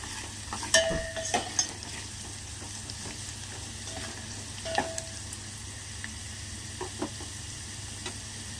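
Tempering seeds fry with onions in hot oil, a continuous sizzle broken by scattered sharp crackles and pops, fairly soft and close.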